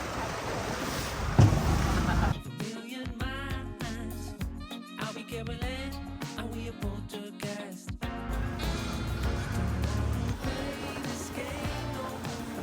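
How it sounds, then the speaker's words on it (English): A boat speeding along the Chao Phraya River waterway in Bangkok, with a loud, steady rush of wind, water and engine noise that swells and fades over several seconds. "And this boat can really get fast."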